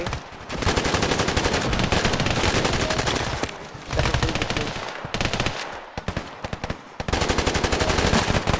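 An AK assault rifle fires in a shooter video game with loud, rapid full-auto bursts that run for seconds at a time, broken by brief pauses, with each volley sharp and close.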